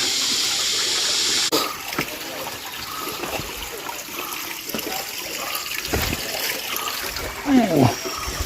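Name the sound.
water flowing through a small channel at a resort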